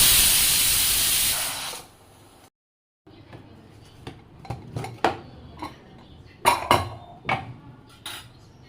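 A home pressure cooker with khichdi gives a loud hissing steam release that fades, then a short silence, then clanks and clinks of pots and utensils in a kitchen, with no talking.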